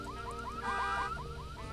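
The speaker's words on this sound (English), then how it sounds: "Oh, oops, I set the alarm off though." Car alarm set off in the Psychonauts video game: a repeating rising electronic chirp cycling several times in quick succession, steady and moderately loud over a soft game background.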